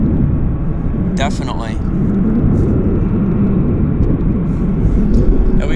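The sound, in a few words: Air Canada Boeing 737 on approach, Flight 203 from Calgary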